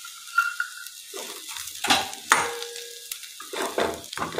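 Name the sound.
stirring a corn mixture in a pan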